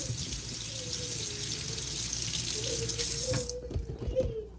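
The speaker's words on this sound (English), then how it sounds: "Let me rinse off the Binky" Tap water runs steadily into a sink to rinse a baby's pacifier, a loud, close, continuous hissing stream that cuts off near the end, leaving a few small splashes and knocks.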